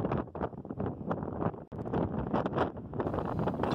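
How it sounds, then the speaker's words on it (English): Strong wind buffeting a microphone at Niagara Falls, a loud continuous rush and roar with gusty swells and a brief dip midway. "The wind here is strong enough to actually push you around."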